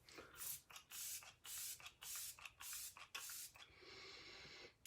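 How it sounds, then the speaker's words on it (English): Arbonne Let It Set setting spray misted from a pump bottle in a quick series of about eight close hissing bursts, ending in a longer steady spray. "we're going to finish with Let It Set setting spray"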